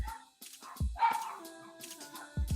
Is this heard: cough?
no